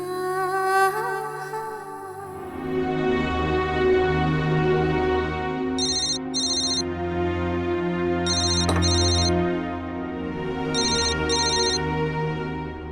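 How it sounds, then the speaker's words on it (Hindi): A ringtone plays steadily over a music-like backdrop as an outgoing phone call waits to connect, with short repeated beeping tones recurring at regular intervals, close and fairly loud. "अभी डब्बू को कॉल करती हूँ।"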